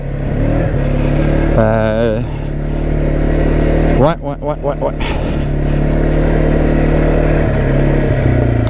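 A Kymco Maxxer 450i ATV's 450 single-cylinder engine hums steadily on a ride, with two quick throttle blips rising and falling over the constant drone, while a person briefly speaks.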